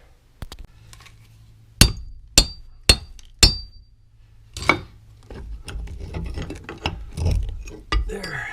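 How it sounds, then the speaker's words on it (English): Steel chisel struck with a hammer around a cast iron shower drain pipe to loosen the lead ring, giving several sharp metallic clinks in a slow series, then a quieter run of scraping, knocking taps and rattles. "I've been taking a chisel, just going around the pipe, hitting it with a hammer like this, trying to loosen that from the side of the pipe."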